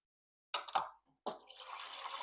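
Water is poured into a salmon and masa dough mixture in a kitchen, a short splash followed by a steady close trickle after a brief gap, fairly quiet and heard alone.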